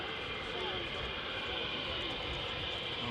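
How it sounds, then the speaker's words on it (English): Military fighter jets taxi on a single engine at an airbase, giving a steady distant roar that holds throughout, with someone talking over it. "once again, these jets taxiing on a single engine"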